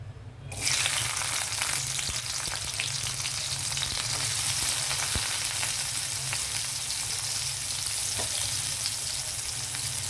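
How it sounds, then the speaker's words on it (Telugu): Onion drops into hot oil and a sudden loud sizzle starts after a short quiet moment, then crackles on steadily and up close with only occasional faint clicks and no voices. "ఆయిల్ హీట్ అయిన తర్వాత మనం డైరెక్ట్ ఆనియన్ వేసేద్దామండి"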